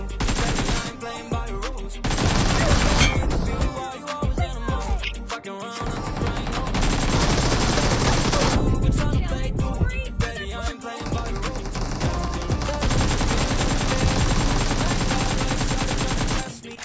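Heavy automatic gunfire from a BGMI / PUBG 2v2 team deathmatch, loud rapid bursts repeating almost continuously with short pauses between volleys.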